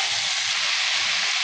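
Boiled potatoes hit hot oil tempered with dried red chilli while aloo posto with bori is cooked, giving a loud, steady, close sizzle and hiss with no pauses.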